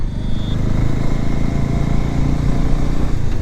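A motorcycle engine drones loud and close, holding a continuous, fairly even rumble with slight fluctuations throughout the short stretch and no talking over it.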